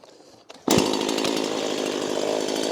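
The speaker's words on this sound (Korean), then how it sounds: "그 다음에 다시 시동을 겁니다." A chainsaw engine restarted after its carburetor fuel was drained catches after a couple of brief pulls, then runs loudly at a steady rough idle close by.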